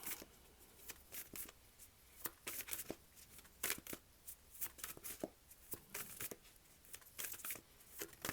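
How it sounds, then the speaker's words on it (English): Tarot cards being shuffled, a steady run of quick papery riffles and flicks that come in irregular bursts at close range with no voice. "while there's moments of silence while I may be shuffling the cards"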